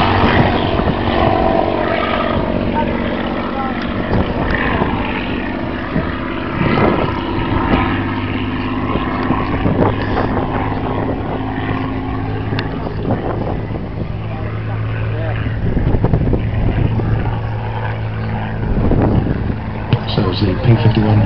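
A P-51 Mustang and North American T-28 propeller aircraft at the Duxford autumn air show give a loud, steady engine drone for the whole stretch, rising slightly near the end.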